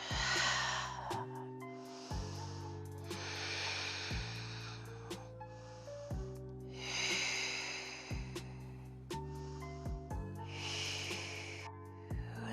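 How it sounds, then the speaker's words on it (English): Open-mouth exhales during a standing yoga class, a series of breathy whooshes about every two seconds over a steady low instrumental music bed, fairly close and moderate in level. "take 4 open mouth exhales"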